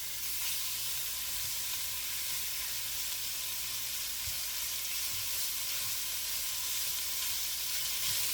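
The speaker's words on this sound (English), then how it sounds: "let's fry up our meat. Ideally, you want to get a good sear on it while you're browning it." Lamb meat searing and browning in a hot pan for Japanese lamb curry, a continuous dense sizzle and hiss throughout with a few faint low knocks, no voices.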